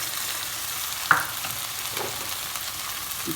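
Garlic and crushed tomatoes sizzle in a hot pan, a steady soft frying hiss with a brief utensil clink early on and faint stirring, no voices.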